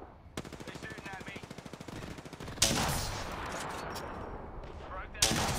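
Rapid automatic gunfire in Apex Legends, a fast even burst of shots followed by a loud blast and a sustained noisy roar, then another sharp impact at the end.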